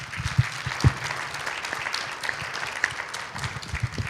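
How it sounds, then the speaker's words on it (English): An audience applauds panelists at the Canada Africa Innovation Festival, a steady round of clapping from a room of people lasting several seconds at moderate loudness, with no talking over it. "invite the audience to appreciate our panelists as well with a round of applause"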